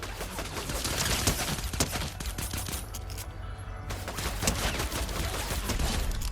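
Fortnite gunfire rattles in dense, rapid bursts through most of the stretch, loud and close, with a brief lull in the middle before the shooting picks up again.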